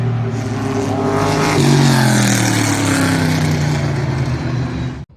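Datsun 240Z in Forza Horizon 5, engine note loud and close, revving up steadily and holding a strong drone before cutting off abruptly at the end.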